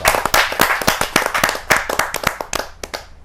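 An audience at a Hindi kavi sammelan poetry gathering claps in welcome, distinct sharp claps from a modest crowd in an uneven rapid rhythm that thins out toward the end.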